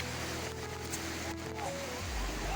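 Kurdas waterfall in the Konkan countryside, heard from close beside its stream: a loud, steady broadband rush of falling and flowing water, continuous for the whole stretch with no voices, swelling slightly toward the end.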